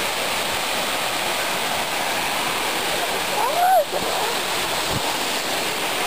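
Steady, loud rushing of clear water at a waterfall in Bato, Catanduanes, a constant hiss of falling water with a brief higher tone cutting through midway.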